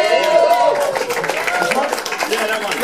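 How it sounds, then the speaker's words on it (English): An audience claps and cheers at a live band show at Black Wire Records in Sydney, with a steady patter of hands under someone speaking over the noise. "round of applause for Keith"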